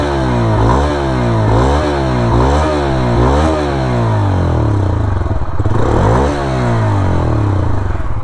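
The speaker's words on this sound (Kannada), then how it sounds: "ಪೆಟ್ರೋಲಲ್ಲಿ ಒಳ್ಳೆ ಸೌಂಡ್ ಬರ್ತದೆ ಕಂಪೇರ್ ಟು CNG" A Bajaj Freedom 125 CNG motorcycle running on petrol revs repeatedly, its engine rising and falling in loud, close surges with a buzzing mechanical rattle, settling into a steadier drone toward the end.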